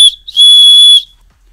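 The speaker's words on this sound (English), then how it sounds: "And it also features a whistle." A single shrill, steady blast from a small whistle on a backpack's chest strap, lasting under a second, preceded by a brief short chirp, loud and close, with silence after.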